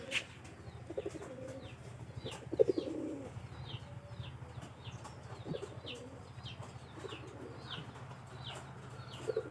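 Pigeons coo softly in their loft as they lay eggs, with repeated low calls and occasional wing flaps over a faint background hum, no voices.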